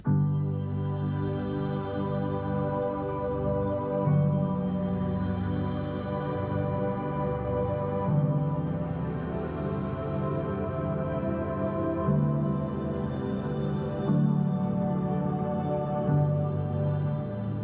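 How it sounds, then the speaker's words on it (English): Layered synth pads and pianos playing together at the close of a pop song production, a dense, sustained harmonic bed swelling softly in slow repeating phrases, no voices. "We do at the end finally have all of those pads and pianos coming together"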